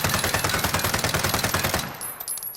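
Sustained submachine gun hip fire in Call of Duty: Modern Warfare, a rapid, even burst of shots close and loud for about two seconds, then stopping with a brief mechanical tail.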